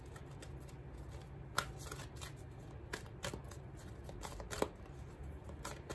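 Tarot cards being shuffled close up, a steady papery riffling with a few sharper snaps, no voices.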